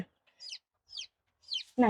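A hen clucks in three short, separate bursts, close and clear in a quiet setting, followed by a brief louder sound at the end.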